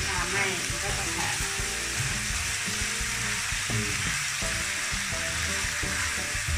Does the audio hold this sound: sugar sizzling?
yes